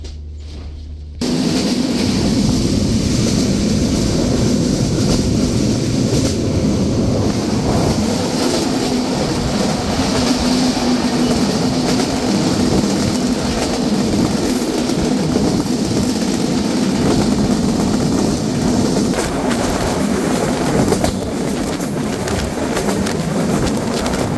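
Madhumati Express train heard from inside a single cabin, a loud steady rumble of wheels and carriage with rattling, starting abruptly after a brief quiet moment and continuing without talk.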